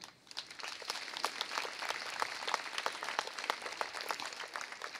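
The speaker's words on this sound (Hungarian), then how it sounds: "De megérdemlik a tapsot" An audience claps throughout a 2021 graduation ceremony at the Ady Endre lyceum, a dense and steady applause of many hands at moderate distance, with no voices over it.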